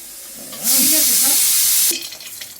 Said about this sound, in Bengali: কাজুটাকে একটু নাড়াচাড়া করে নেব খুব বেশি ভাজবো না